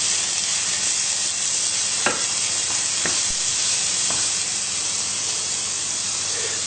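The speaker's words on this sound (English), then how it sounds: "I'll also put those red peppers in. Just mix that all around." Red peppers stirred into lamb mince sizzling in a pan, a steady close frying hiss with a few sharp clicks of the utensil against the pan, no voices.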